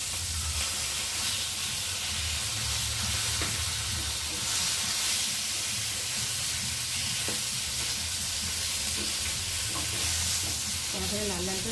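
Fish pieces fry crisp and red in hot oil, giving a steady, dense sizzle with occasional crackles and soft clinks near the pan.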